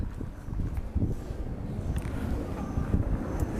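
Strong outdoor wind buffets the microphone with a constant low rumbling roar that swells and dips over several seconds, with no voices.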